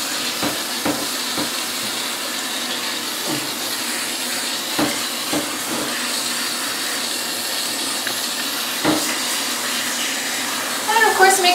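Water spray rinses a Silver Persian cat during a bath, a steady broadband hiss running throughout with a few brief knocks and a voice talking softly over it.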